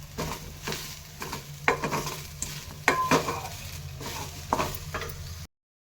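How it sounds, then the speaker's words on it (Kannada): Bitter gourd (hagalkayi) fries in a pan for a Karnataka-style sabji, a sizzle under repeated clinks and scrapes of a spatula stirring against the metal, then cutting to silence at the end. "ಸೊ ಇದೇ ಥರ ಫ್ರೈ ಮಾಡ್ಕೊಳ್ಳೋಣ ಸ್ವಲ್ಪ 2 ಮಿನಿಟ್ಸ್"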